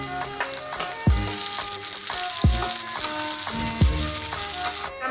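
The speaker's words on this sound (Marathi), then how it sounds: "आता हे 3 मिरच्या कापलेल्या आहेत हिरव्या, त्या आपण फ्राय करून घेऊया." Cut green chilies frying in hot oil with onion and whole spices for an egg curry: a steady, loud sizzle broken by three regular scraping stirs.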